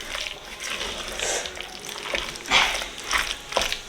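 Diced onion hits a pan and sizzles at a moderate level, with intermittent clatter and stirring bursts rising and falling over the hiss.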